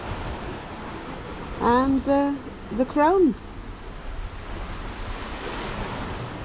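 Ocean water washing against the hull of a sailboat at sea during an Atlantic crossing near the Cape Verde Islands, a steady broadband wash under a man's brief speech.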